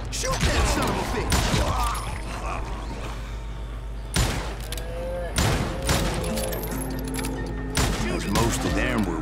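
Video game gunfire in Call of Juarez: loud, close bursts of shots and heavy impacts at irregular intervals, mixed with mechanical clanks and a voice talking between volleys.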